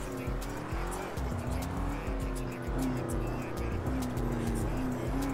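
Engine and tyre noise from an Alfa Romeo Giulia driven in GTA5 FiveM during a European imports car meet, a steady loud car roar with squealing tyres, under continuous voices talking.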